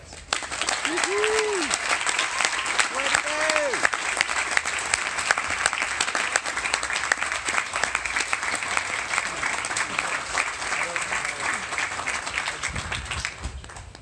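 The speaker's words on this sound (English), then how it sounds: "So let's give him a round of applause" An academic awards audience claps steadily for a Dean's List and President's List honoree, sustained dense applause throughout with a few voices briefly heard over it near the start.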